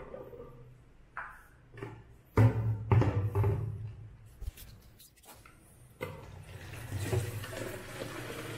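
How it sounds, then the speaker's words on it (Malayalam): Water poured into a plastic pet water dispenser for puppies, a few gurgling splashes and trickles in bursts with handling knocks between, close and fairly quiet. "നമുക്കിതിനകത്ത് വെള്ളം ഫില്ല് ചെയ്ത് നോക്കാം."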